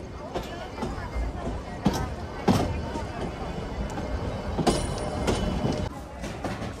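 The Ooty toy train, ridden in general class, rumbles steadily along its track toward Coonoor, with clattering bursts and knocks rising over a continuous broad roar while people talk nearby.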